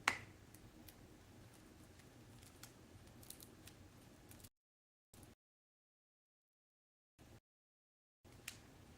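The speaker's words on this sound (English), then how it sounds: "Scissors." Scissors snip duct tape during fursuit pattern making, a few crisp clicks and cuts close up in a quiet room, with brief stretches of silence between.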